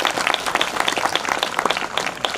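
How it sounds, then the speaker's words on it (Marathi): An audience at a Marathi motivational talk bursts into loud, dense applause, many hands clapping rapidly and irregularly at close range throughout. "एकदा जोरदार टाळ्या वाजवा."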